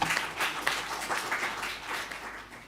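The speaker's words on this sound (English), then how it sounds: "Another round of applause to Dr." An audience at a stakeholder conference opening session applauds steadily, a dense patter of many hands clapping at moderate volume for a few seconds, gradually tapering.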